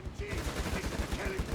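A machine gun team in Company of Heroes 3 fires a steady, fast rattle of shots that pulses evenly throughout, moderately loud under faint battlefield ambience.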